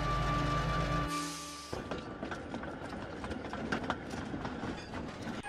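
A steam engine train hauling tankers along rails, rolling with a steady rhythmic clatter of wheels over track joints, moderately close, after a brief tonal hoot-like sound at the start.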